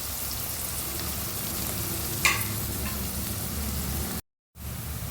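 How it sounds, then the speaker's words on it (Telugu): Onions frying in oil in a pan while being cooked until brownish, a steady soft sizzle with a single brief stir or clink partway through and a momentary cut to silence near the end. "మనకి ఆయిల్ పైకి వచ్చేంత వరకు బాగా మనకి బ్రౌనిష్లో రావాలన్నమాట ఆనియన్"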